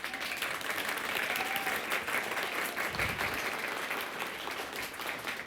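An audience in a theatre breaks into applause on cue, a dense and steady clapping from many hands that holds at an even level throughout.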